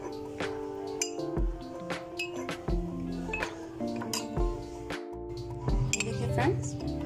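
A spoon clinks repeatedly against a bowl as custard powder is stirred into water, with sharp irregular taps and scrapes close by under quiet speech.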